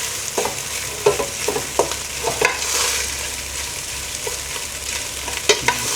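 Rice with garlic, olive oil and salt being stirred in a pan, a spoon scraping and clicking against the metal in irregular strokes over a steady soft sizzle, close and alone.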